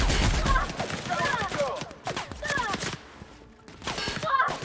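Pistol shots in The Outer Worlds on PS4 Pro, a few sharp reports spaced through the clip amid game effects, with talk in between.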